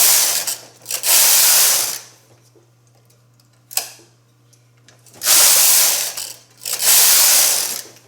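A knitting machine carriage is pushed across the needle bed for two rows of a sweater, giving two pairs of loud, rasping, ratcheting sweeps separated by a quiet pause, over a steady low electrical hum.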